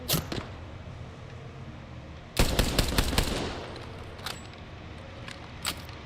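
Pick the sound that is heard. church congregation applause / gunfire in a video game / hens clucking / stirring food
gunfire in a video game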